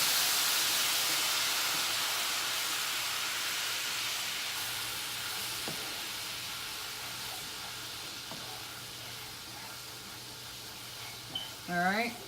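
Hot pan deglazed with Sauvignon Blanc, a loud rush of steamy hissing that slowly fades into a softer simmer, with a voice speaking briefly near the end.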